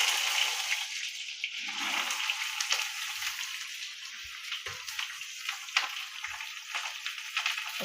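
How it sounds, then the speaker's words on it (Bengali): Hot oil sizzles steadily in a wok with a little salt as pointed gourd (patol) fries. The bright, hissing crackle stays close and continuous, with small pops and no voices. "তেলটা গরম হয়ে গেছে, তেলের মধ্যে আমি একটু নুন দিয়ে দিচ্ছি। এরপর আমি পটলগুলোকে এর মধ্যে দিয়ে দেব।"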